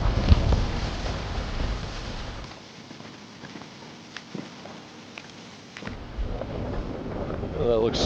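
Wind gusting through a pine forest, with broadband rushing and microphone buffeting that eases briefly mid-clip, plus occasional creaks and knocks.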